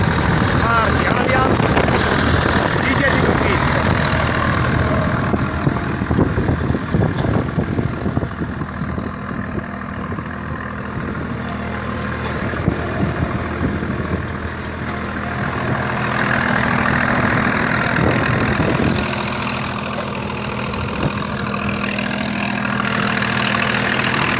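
A Zetor 5211 tractor engine idles close by, a low rumbling drone that holds throughout with slight swells, while people talk intermittently over it.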